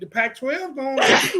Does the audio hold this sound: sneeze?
yes